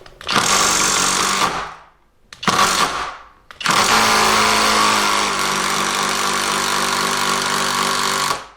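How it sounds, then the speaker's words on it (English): A loud impact driver whirs and rattles in short bursts, then runs steadily for several seconds as a screw is driven through a piece of oak, close up. "notice I'm only using one hand on the impact driver itself"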